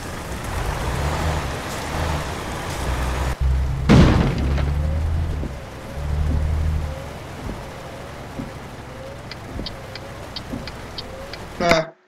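Euro Truck Simulator 2 truck collision: a rumbling truck engine drone broken by a sharp crash thud at about four seconds, then more engine rumble and a clattering burst at the end.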